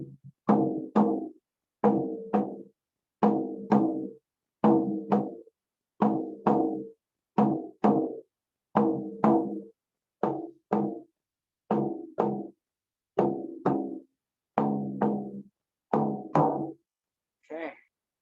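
Hand drums beat the heartbeat rhythm, a steady lub-dub pair of strikes repeated about a dozen times at an even pace, loud and close, with a faint rattle at the end.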